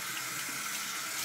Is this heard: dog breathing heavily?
no